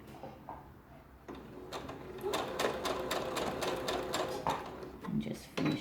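A sewing machine stitches underwear elastic in a quick, rhythmic mechanical rattle that starts after a short pause and runs close up. A voice speaks softly underneath the stitching.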